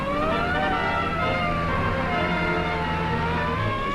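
Police car siren on a car gaining ground in a chase, a steady wailing tone that sweeps slowly up and down, continuous and loud over a dense rumble of engine and traffic noise.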